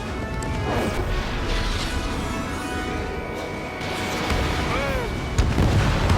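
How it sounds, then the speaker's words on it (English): A missile striking its target in the flight combat game Ace Combat 7 erupts in a loud, sustained crashing blast, layered over continuous jet engine roar, with a sharper impact near the end. "Missile hit."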